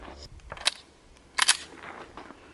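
Rifle fire at an outdoor range striking steel targets while a red-dot optic is tested, giving two sharp cracks roughly a second apart, the second a tight cluster of bright impacts, over quiet background.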